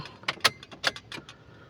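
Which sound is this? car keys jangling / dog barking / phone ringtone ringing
car keys jangling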